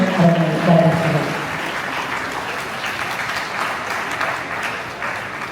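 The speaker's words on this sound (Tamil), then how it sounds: "அவர்களுக்கு மிகுந்த கரகோஷத்துடன் அவர்களை வரவேற்கிறோம்." A hall audience applauds to welcome a special guest at a Salute To Mothers celebration event, dense steady clapping that stays loud throughout, with brief murmured sound at the start.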